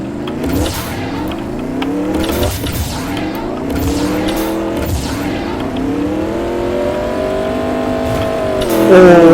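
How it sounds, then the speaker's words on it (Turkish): A car in Roblox Mad City revs and accelerates with squealing tires and skidding, loud engine tones rising and falling, ending in a brief crash burst near the end. "Gördüğünüz gibi arkadaşlar aracı tabii ki de pert etmiş bulunmaktayım."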